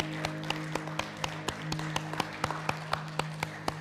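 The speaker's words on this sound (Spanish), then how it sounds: "¿Por qué no le damos un aplauso al Señor?" A church congregation claps in a slow, regular rhythm, about fifteen crisp claps at an even pace over a steady low hum, fairly faint and with no talking.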